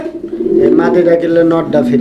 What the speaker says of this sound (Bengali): দর্শক কবুতরগুলো আপনারা দেখেন